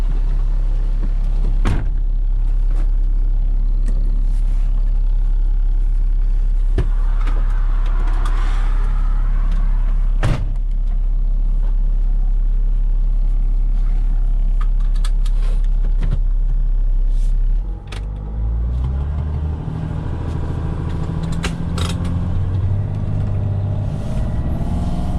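A 2011 Mercedes Sprinter 3.0L diesel van, newly repaired for low turbo boost, drives on a test run with a steady loud engine rumble and road noise, shifting tone partway through, with no talking.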